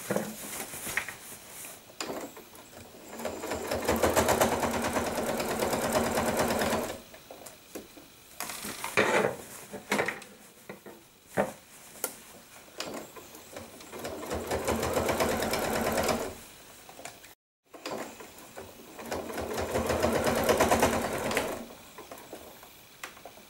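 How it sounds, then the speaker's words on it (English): A sewing machine topstitches around a bag in several long, loud, close bursts. It stops and restarts between them with short pauses and handling clicks. "And then we're going to top stitch."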